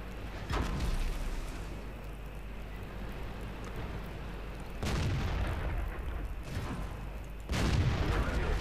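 Tank gunfire in World of Tanks, three heavy booming shots spaced several seconds apart over a steady low rumble of engine and ambience.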